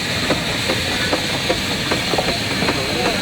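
An early Burrell steam traction engine runs at a rally, a steady hiss and churn with regular soft chuffing beats pulsing through it.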